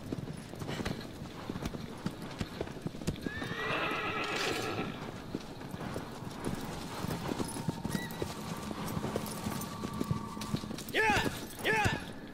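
Horse hooves clip-clopping at a gallop in the video game Shadow of the Colossus, with a loud neighing whinny partway through and more whinnies near the end, while people talk over the game audio.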